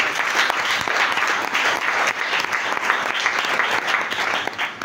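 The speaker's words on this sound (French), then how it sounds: "Est-ce qu'on peut applaudir encore notre Dieu?" A church congregation applauding during a French-language sermon: continuous, fairly loud clapping from a large group, steady throughout with a slight dip at the end, no voices over it.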